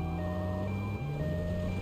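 Reversing beeps from a vehicle backing up in GTA Vice City, a steady electronic tone repeating under a continuous engine drone, heard alone with no talk.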